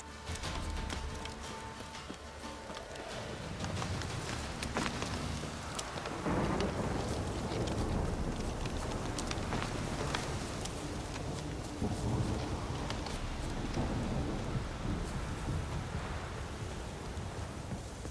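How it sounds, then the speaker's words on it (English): Heavy rain pours steadily in The Witcher 3, with rumbling thunder rolling through a dense, continuous downpour that stays loud throughout. "This downpour's a bastard, it is."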